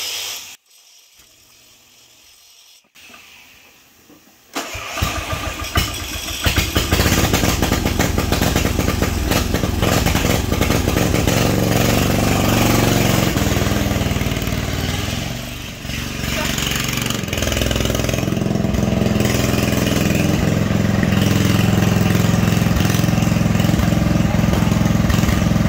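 A race mower engine catches after a few quiet seconds of fiddling, then roars into a loud, rough, steady run close by. The note dips briefly partway through before it settles back into a throaty idle.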